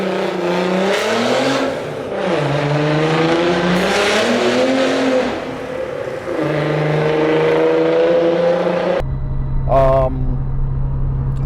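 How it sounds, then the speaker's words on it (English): Nissan 300ZX twin turbo with an aftermarket exhaust, a loud engine note rising and falling through revs for several seconds, then a brief higher rev over a steady low drone near the end. "My first mod was getting a nice exhaust for this, which kind of makes it sound like a GTR."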